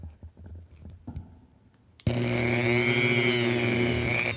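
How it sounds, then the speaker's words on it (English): Rotary power tool sanding a plastic action figure part, a small motor starting abruptly after faint handling noises and then whining steadily at high speed, close and loud. "now I'm going to take and sand this around"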